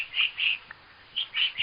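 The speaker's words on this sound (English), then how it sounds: "the cries of a woodpecker is called" Short, sharp bird calls from a woodpecker, heard as a few bright chirping bursts in two clusters separated by a brief pause, fairly clear with no talking.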